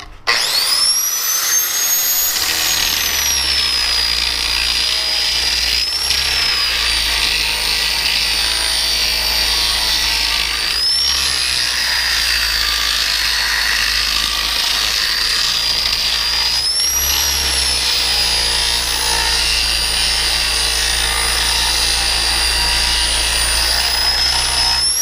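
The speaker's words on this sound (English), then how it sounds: "I'm going to use this to go around each side halfway and just grind those welds off and knock that pipe off out of the way" Angle grinder cutting welds off a steel pipe on a gantry crane, a loud continuous high-pitched whine held steady for the whole stretch, with brief pitch dips where the disc bites into the metal.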